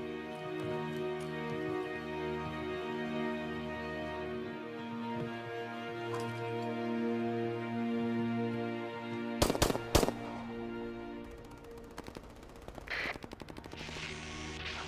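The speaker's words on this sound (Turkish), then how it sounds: "Nizamiye'den silah sesleri duyduk." Gunfire in a Turkish police action film: sharp bursts of rapid shots break out midway through a stretch of steady low music, with a few more scattered cracks toward the end.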